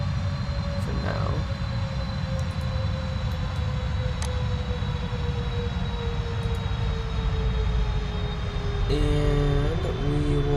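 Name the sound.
Boeing 777-200LR jet engines in Prepar3D flight simulator game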